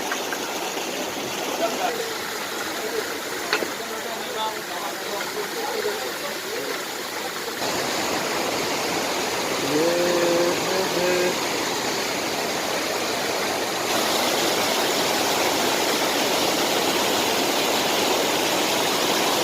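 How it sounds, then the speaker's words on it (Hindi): A flowing stream of clean drinking water rushes continuously and loudly nearby, with a brief low hum partway through, its steady wash unbroken for the whole stretch. "ये पानी अभी देखो कितना साफ है पीने का पानी है"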